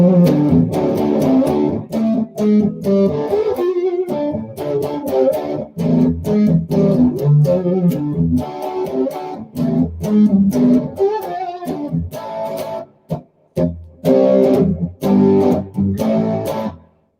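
Eric Clapton Signature Stratocaster electric guitar played with the TBX tone control turned up, giving a thick, growling Les Paul-like tone; a continuous riff of chords and single notes, loud and close, with brief pauses near the end.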